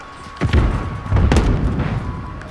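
A grenade goes off in Call of Duty Modern Warfare, with two heavy booms about a second apart, close and loud, then a rumbling tail.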